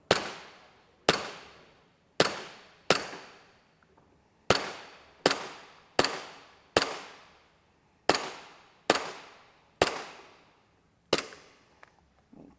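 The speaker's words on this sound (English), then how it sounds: "we're gonna do the chrono for the little Glock 19" A WE Tech Glock 19 gel blaster fires about eleven sharp, close, loud snapping shots through a chronograph in an uneven rhythm, each shot cracking and fading quickly, with no talking.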